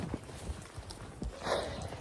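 Horse hooves clip-clopping at a show-jumping competition, a series of irregular dull thuds close by over a busy background of outdoor noise, with no voices.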